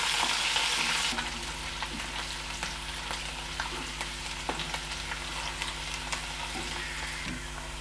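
Onions browning with whole spices in hot oil for Telugu-style tomato rice, a steady close sizzle with occasional soft stirring scrapes, louder for the first second then even.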